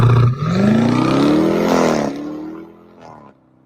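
An almost 800-horsepower Ford Bronco SUV engine revs hard and accelerates close by, a loud rising roar climbing in pitch for about two seconds before easing back and fading.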